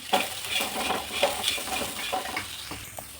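Coriander leaves, mint, cinnamon, cloves, poppy seeds and cardamom fry in a pan for palav, with a quiet sizzle under repeated stirring scrapes and light clinks of a utensil, and no voices.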